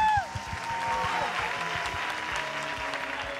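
Studio audience of a Turkish television talent competition breaks into steady, sustained applause after a brief voice at the start, the clapping dense and even throughout.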